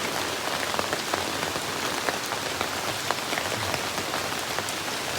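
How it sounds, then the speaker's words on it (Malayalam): Light rain patters on a surface, with scattered distinct drops ticking over a soft continuous hiss. "ഇപ്പൊ ചെറിയൊരു മഴ പെയ്യുന്നുണ്ട്"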